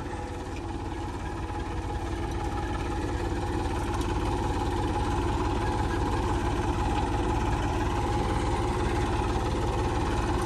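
A tractor engine runs steadily and loudly close by during mustard sowing in a farm field, a continuous low mechanical drone with an even, rapid pulsing and no clear pauses.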